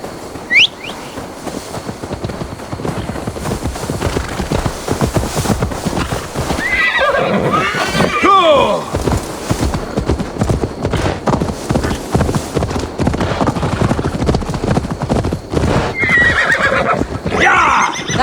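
In the game Assassin's Creed Valhalla, a horse whinnies and its hooves clip-clop steadily across the ground, with the neigh rising clearly above the continuous galloping and game ambience.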